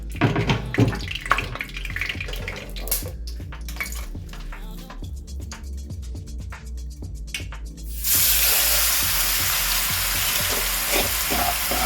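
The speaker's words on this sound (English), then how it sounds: "Let it cook. We just want to sear it." Corned beef brisket searing in hot oil in a pan: close crackling and spitting with utensil clatter at first, then a sudden loud, sustained sizzle roaring steadily to the end, no speech.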